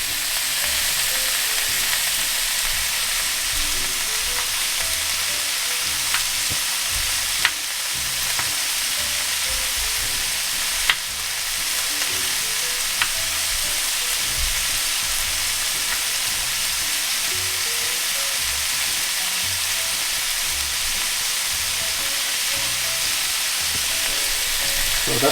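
A Scotch bonnet pepper fries in a hot pan, a loud, continuous oily sizzle with dense crackle and a few sharp pops, heard close up and steady with no speech.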